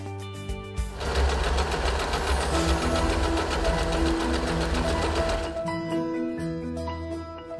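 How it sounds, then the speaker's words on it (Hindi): An Usha Janome Wonder Stitch electric zig-zag sewing machine runs steadily for several seconds, a loud close mechanical whir with fast rhythmic needle clatter, starting and stopping with softer motor hum and tones around it. "आखिर में पैटर्न सिलेक्टर को एफ पर रखें और सिलाई शुरू करें"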